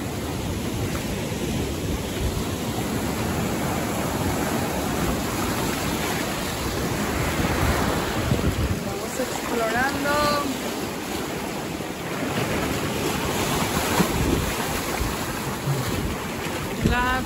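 Ocean waves wash in steadily on a beach in Michoacán, Mexico, a broad continuous roar of surf with swells rising and falling, alone and close by.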